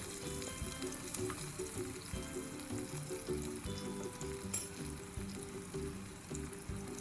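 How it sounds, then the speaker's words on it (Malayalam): Vegetables frying in hot oil for biryani, a steady close crackling sizzle with occasional bursts and faint stirring, continuous throughout with no talk. "ഇനി നമുക്ക് ഇത് ഓരോ വെജിറ്റബിൾസും ഒന്ന് ഫ്രൈ ചെയ്ത് കോരി മാറ്റി വെക്കാം."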